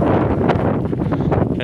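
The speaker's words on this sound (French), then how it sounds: "Beaucoup de vent par contre, mais bon c'est normal, on est dans les plaines." Strong wind on open plains buffets the microphone in a loud, continuous, low rumbling roar with gusty fluctuations, heard alone without talk.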